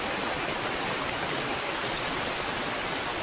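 Heavy rain pours down in a dense, unbroken roaring hiss, loud and close, with no other sounds standing out.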